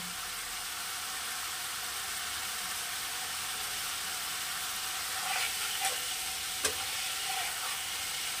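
Spices for a Bengali fish curry with eggplant and potato fry in oil in a pan, a steady close hiss with a few scraping stirs near the end and no talk.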